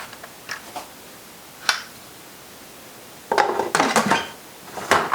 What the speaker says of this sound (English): So now we'll get the lid back on.